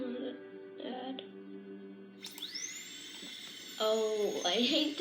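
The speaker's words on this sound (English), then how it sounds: "Oh, I hate the dentist drill." A dentist's drill played from a recording: a thin, high-pitched whine that rises sharply and holds a steady sustained tone, with people talking around it.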